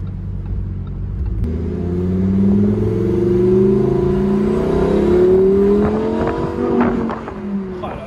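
Lamborghini Huracan Evo 640 hp V10 revving in its mildest Strada mode, a loud, close engine note rising and sustaining with a steady growl over several seconds and settling slightly toward the end.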